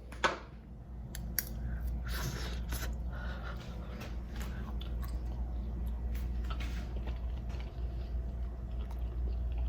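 Close, quiet chewing of Vienna sausage (salchicha) and yellow rice, with soft, squishy bites and small crunchy clicks spread across several seconds.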